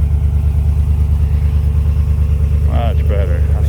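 A 2022 Ram 1500 Limited pickup with a 5.7 Hemi eTorque V8 and a Total Flow 6-inch muffler-delete exhaust idles with a loud, deep, steady rumble, and a short burst of voice rises briefly over it near the end.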